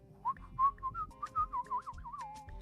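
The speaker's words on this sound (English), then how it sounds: "That whistling section there." Melodic whistling in a Nigerian music track, a run of about a dozen bright, clear notes in a quick tune over a soft, low musical backing.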